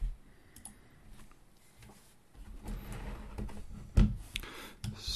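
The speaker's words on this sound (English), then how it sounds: "I'm gonna just type all this in." Computer keyboard typing, with scattered clicks and taps at uneven intervals, fairly quiet and close, plus a sharper knock near the end, and no voices.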